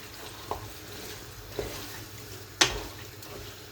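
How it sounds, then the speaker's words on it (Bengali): Meat curry cooking in a pan as it is stirred with a spoon: three sharp scrapes and clinks spaced about a second apart over a soft, low sizzle, with no talking. "তো এখানে এটা আমি লাড়া দিলাম"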